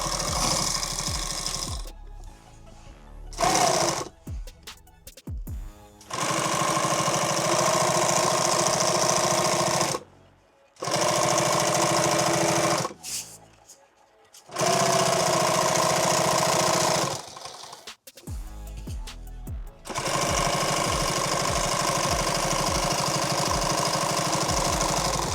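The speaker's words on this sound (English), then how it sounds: "So I'm gonna start by just sewing this on here right now." A sewing machine stitching a six-magazine pistol pack, running in long steady bursts of rapid mechanical whirring separated by short pauses and brief stop-start stitches, close and loud with no talking.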